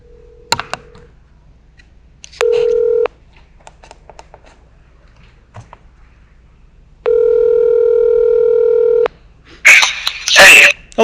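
A landline telephone call being placed: a few button tones and a couple of long steady dial or ringback tones, with a cough or sneeze and some rustling handling sounds near the end, loud and close.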